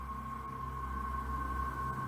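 A steady electrical hum fills a dark, unlit, supposedly haunted building, a low constant buzz with a whining tone that sits faint and unchanging throughout.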